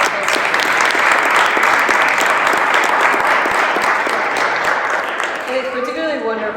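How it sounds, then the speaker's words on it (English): Audience applause at a talk on Caribbean leadership, a dense steady clapping from a crowd that holds loud for several seconds, then tapers off as a voice begins speaking over it. "Can we have an applause?"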